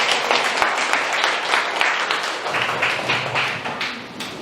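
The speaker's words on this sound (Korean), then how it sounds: "박수 한번 부탁드립니다" Audience applause at a poetry book talk in a bookstore, a fairly close burst of clapping with distinct hand taps that thins out over a few seconds.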